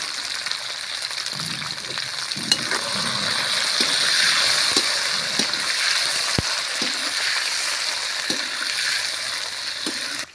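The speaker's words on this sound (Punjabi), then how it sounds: "ਆਪਾਂ ਜੀ ਗੋਭੀ ਨੂੰ ਤੇਲ ਦੇ ਵਿੱਚ ਫਰਾਈ ਕਰ ਲਈ" Sun-dried cauliflower frying in hot oil for Punjabi cauliflower pickle, a steady hissing sizzle that swells in the middle, broken by scattered clicks and scrapes of stirring, with no talking.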